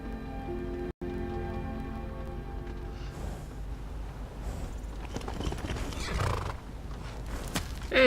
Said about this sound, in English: my horse found its way here now